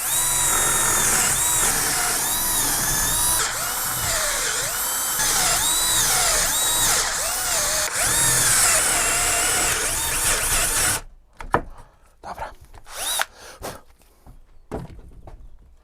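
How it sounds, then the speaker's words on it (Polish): A power drill bores holes into a wooden board, its steady whine running continuously for about eleven seconds, then giving way to a few sharp knocks and clatters of handling. "Otwory wywiercone."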